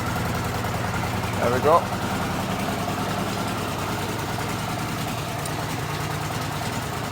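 A rebuilt Honda CX500 motorcycle engine idles steadily and close by, a low, even running note throughout, with someone speaking briefly over it.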